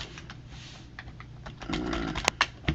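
Fingers tap a computer keyboard while a CPU model number is entered into a PC parts comparison site, soft scattered keystrokes building to a denser, louder run with a few sharp clicks near the end.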